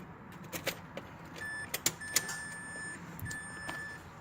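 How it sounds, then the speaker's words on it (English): The power window motor of a 2003 Mazda Protege runs in short bursts, a faint, thin electric whine close at hand with a few clicks and knocks between runs. "we'll go ahead and test this motor and see if it works"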